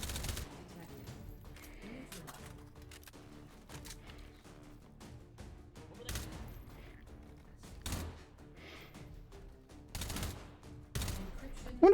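Gunfire in the VR shooting game H3VR, sharp close shots and short bursts breaking out at irregular intervals over a quiet background, with some fainter mechanical clicks between them.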